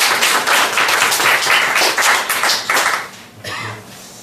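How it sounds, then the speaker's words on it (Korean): Church congregation on Children's Sunday clapping together for a returning deacon, a dense, loud burst of applause that fades near the end as a voice begins to speak. "한번 박수 할까요?"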